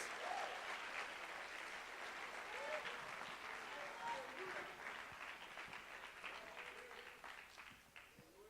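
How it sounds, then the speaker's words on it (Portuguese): Church congregation applauding for Jesus after a closing prayer, a steady, dense wash of many hands clapping at moderate distance, with faint voices mixed in and the sound tapering slightly toward the end. "Vamos aplaudir a Jesus."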